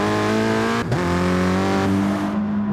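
A race car in a Brands Hatch GP racing game pulls out of the pit lane, its engine holding a steady tone, dropping briefly during a gear change, then revving back up loud and close before fading.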